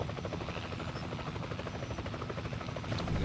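Helicopter in the combat game War Thunder: a steady, close rotor buzz with rapid regular blade chop runs throughout at an even level, swelling slightly near the end.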